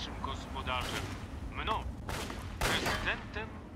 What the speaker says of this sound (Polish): I coś do mnie strzela, nie wiem co do mnie strzela w ogóle